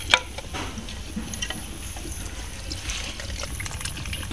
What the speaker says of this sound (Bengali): এখন ডাবের পানিগুলো দিয়ে দেবো